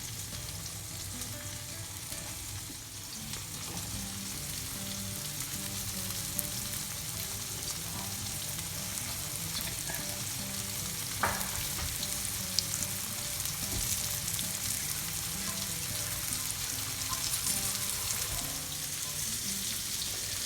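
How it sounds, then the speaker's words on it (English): Thin slices of liver frying in a pan for liver and onions, a steady close sizzle running the whole time with a few small pops and scrapes, no voices. "And we're going to start cooking up our liver"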